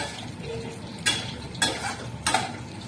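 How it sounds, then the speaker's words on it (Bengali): Mustard masala with khoira fish being stirred and sautéed in a pan: soft frying hiss underneath three distinct scraping strokes of a spatula, close by and without speech. "মশলাটা ভালো করে কষিয়ে নিচ্ছি"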